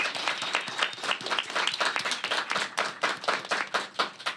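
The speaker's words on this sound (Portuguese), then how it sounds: "Agora é palmas pra plateia!" A studio audience gives a burst of steady, dense clapping that stays loud and close throughout, with no talking over it.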